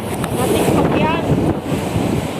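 Strong typhoon wind from Typhoon Rolly tears at coconut palms and buffets the microphone in a steady, loud, roaring rush with no letup across the whole stretch.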